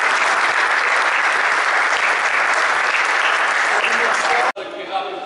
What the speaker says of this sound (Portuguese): Uma salva de palmas para os bons.